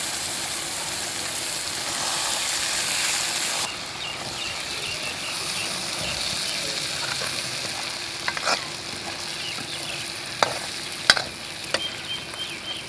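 Masala okra (bhindi) sizzles steadily in a hot pan while it is stirred, with occasional sharp clicks and scrapes of the spoon against the metal toward the end; no voices.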